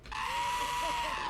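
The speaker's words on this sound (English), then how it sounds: "I love screaming goats." A goat's screaming bleat rings out loud and strained, one sustained cry lasting about a second over steady background noise.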